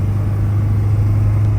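Mercedes W123 pulling under full throttle in second gear, a steady low drone from inside the car with a constant hum and little sign of the pitch climbing.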